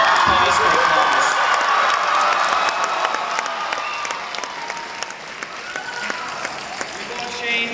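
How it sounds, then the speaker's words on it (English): Graduation audience breaking into loud applause mixed with cheering and whoops, a dense wash of clapping that carries on for several seconds and slowly eases, with scattered shouts and crowd voices. "Pause for applause."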